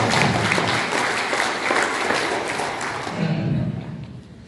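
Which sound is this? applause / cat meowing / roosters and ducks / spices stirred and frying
applause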